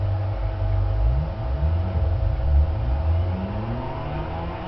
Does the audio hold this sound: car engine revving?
yes